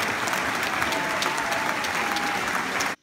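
Applause from a political rally crowd, dense and steady clapping at full strength for about three seconds before cutting off abruptly, with a faint crowd murmur underneath.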